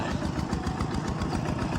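A diesel Siam Kubota tractor engine chugs steadily nearby while ploughing a rice field, a loud low rhythmic putter running continuously with no voices.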